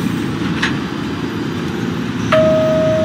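A Coney Island bound Q local subway train at Newkirk Plaza station in New York City gives a loud, steady rumble with a sharp clank, then a sustained electronic tone sounds near the end.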